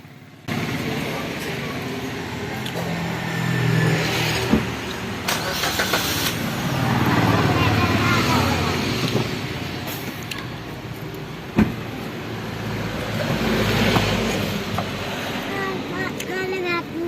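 A car engine turns over and settles into a steady drive-by rumble heard from inside the vehicle, with road noise and occasional knocks, and muffled voices at times.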